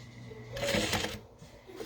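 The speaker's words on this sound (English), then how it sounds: "I'm going to sew 2 stitches over where I started." Stitching on a handmade Boon leather wallet: one rasping burst of thread drawn through, close and moderately loud, with a quieter rustle trailing after.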